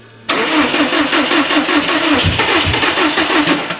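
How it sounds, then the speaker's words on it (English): A built Subaru STI engine cranks and catches on its first start, then settles into a loud, steady running rumble close by with a rhythmic pulse. "Fire it up and let it run for about 2 seconds."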